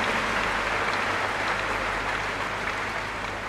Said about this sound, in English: Can you clap for yourselves, please?